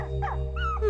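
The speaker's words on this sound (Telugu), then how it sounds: "కుక్క నాదే." A pet dog rescued after falling under a lorry whimpers in short, high, wavering whines over a steady low hum, close and fairly soft in a brief burst.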